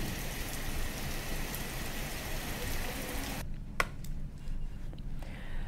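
Steady, dense rain pours down in Uttar Pradesh, a constant hiss that suddenly thins to lighter patter with a few sharp drip clicks toward the end.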